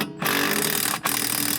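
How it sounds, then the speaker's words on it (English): A power tool whirs steadily as it backs out a rear wheel hub assembly bolt on a Subaru BRZ, a continuous close mechanical drone that briefly drops out for a moment before running on. "That's two hub assembly bolts out."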